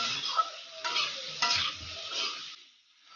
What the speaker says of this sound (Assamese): এতিয়া মই আলু ৰঙালাওখিনি ভালদৰে এনেকৈ মিক্স